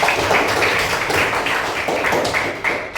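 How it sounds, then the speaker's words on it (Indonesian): A classroom group of students claps together in a dense, steady patter of hand claps for about three seconds. "tepuk tangan dulu untuk kelompok"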